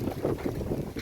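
Wind blows steadily through trees outdoors, with low rumbling gusts buffeting the microphone in uneven surges and no voices.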